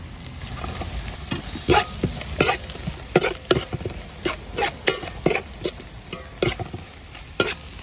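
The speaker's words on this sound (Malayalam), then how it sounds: "നല്ലപോലെ ഒന്ന് ഇളക്കി കൊടുക്കാം നല്ലപോലെ ഒന്ന് വഴലട്ടെ" Onions frying with a teaspoon of salt in a pan for chicken kurma, stirred with a spoon in a steady run of scraping strokes over a constant close sizzle, with no voice.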